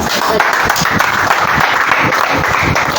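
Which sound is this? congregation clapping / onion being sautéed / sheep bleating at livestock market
congregation clapping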